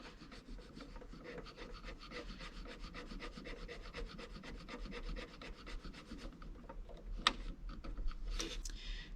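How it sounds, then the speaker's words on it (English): A cotton bud rubs back and forth across the playback record head of a cassette deck, producing a steady rapid scratchy scrubbing close up, followed by a few sharper clicks near the end. "we'll make a start on that playback record head"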